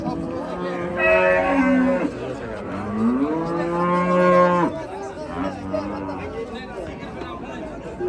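Cattle at a livestock market low loudly and close by, with two long drawn-out moos followed by softer calls over a faint murmur of the crowd.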